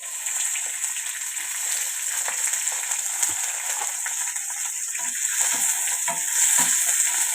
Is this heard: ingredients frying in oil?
yes